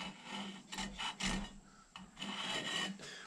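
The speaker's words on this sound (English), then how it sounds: "I'll repeat what I just did with filing, blending that file mark out" A hand file rasps against a horn being shaped into a powder horn. The strokes are close, dry and scraping, repeating in an uneven back-and-forth rhythm with short pauses, and no one speaks.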